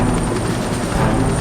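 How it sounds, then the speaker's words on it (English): A helicopter leaves a ship, its rotor and engine noise forming a loud, steady, close roar with no pauses throughout. "Luthor sneered as his helicopter left the ship."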